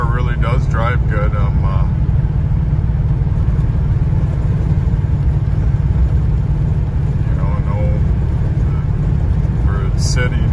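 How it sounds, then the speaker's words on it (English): A 1977 Cadillac Eldorado cruises with a loud, steady engine drone and road rumble throughout, while brief voices come through faintly at the start and near the end. "the old car really does drive good"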